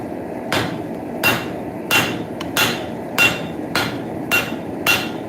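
Steel hammer striking the head of a railroad spike clamped in a vise, eight sharp ringing metallic blows at a steady rhythm, close and clear with no talking.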